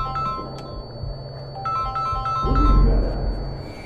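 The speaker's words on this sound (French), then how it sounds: "Téléphone qui sonne" A telephone rings in the video game Sniper Elite V2 Remastered, repeated electronic ring bursts sounding over a low game background rumble with no talk.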